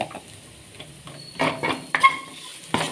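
A few scrapes and clinks of a spoon in a pan while ingredients are sautéed for a curry, sparse and moderately close over a faint background sizzle, no voices.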